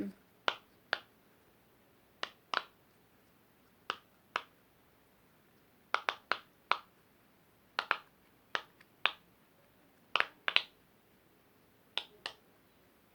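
Sharp, crisp pops from a pop-it fidget toy sound one at a time and in quick pairs with short gaps between, close and clear against near silence.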